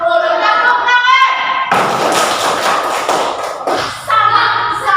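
Schoolchildren in a classroom break into a burst of hand clapping lasting a couple of seconds, with a voice heard before and after.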